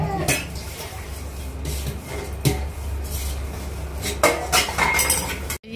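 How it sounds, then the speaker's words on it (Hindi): Dishes are washed by hand, with pots, steel utensils and cutlery clinking and scraping in irregular bursts over a steady background of running water, near and moderately loud. "शाम के मेरे थोड़े बहुत बर्तन थे धोने के लिए, तो मैं वही धो रही हूँ"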